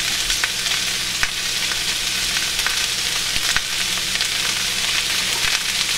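Cabbage sautés in bacon fat in a pan, wilting and browning under a loud, steady frying sizzle punctuated by sharp spatula scrapes and pops; a brief spoken word comes partway through.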